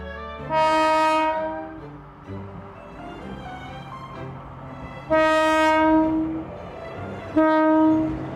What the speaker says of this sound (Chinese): 有5分仔火车去农场载甘蔗